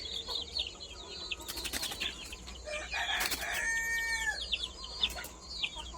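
On a village farm a Chinese chicken crows amid busy clucking from other birds, with bursts of wing flapping early on and a longer crow in the middle.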